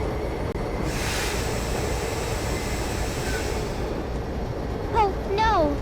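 An Empire Builder passenger train rumbles along the tracks in a train video game, a steady low rolling drone with a brief hiss early on and rising squealing tones near the end.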